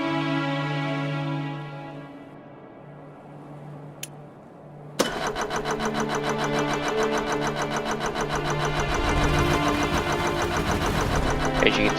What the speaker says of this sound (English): Turn the key on, throttle up, turn the key off. There you go, it's running.